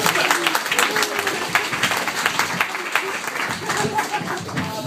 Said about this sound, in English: So please give a big round of applause for Amy